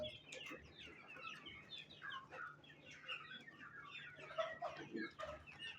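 A desi rooster basking in the sun clucks in soft, repeated bursts, joined by other chickens and small birds chirping around it, all fairly faint with a low hum underneath.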